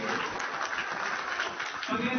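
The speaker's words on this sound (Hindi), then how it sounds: "जोरदार तालियां" A loud burst of applause rises from an audience at a public gathering in Alwar, India, with dense, continuous clapping throughout the two seconds.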